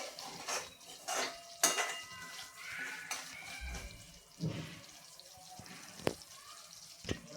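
Semolina being stirred as it roasts in a pan for prasad sheera, with spoon scrapes and occasional sharp metallic clinks in an irregular rhythm, fairly quiet and close.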